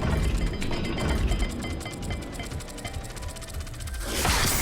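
Mechanical puzzle dial turning in the Hogwarts Legacy video game, a run of rapid ratcheting clicks and grinding gear sounds, close and fairly loud, ending in a brighter scraping burst.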